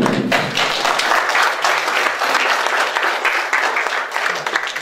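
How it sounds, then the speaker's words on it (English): A conference audience claps together after a DevOps security talk, a dense steady wash of applause sustained for several seconds before tapering slightly, close and loud. "Another round of applause, please."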